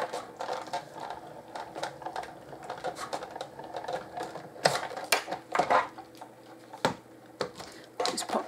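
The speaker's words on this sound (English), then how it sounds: "I'm going to put my Sizzix textured plate on top of that. And then I'm just going to roll that through." A Sizzix embossing machine being cranked, rolling a textured embossing plate through, gives a run of close, uneven mechanical clicks and rattling knocks with a few louder thumps, alone without voices.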